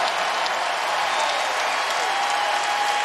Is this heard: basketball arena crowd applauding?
yes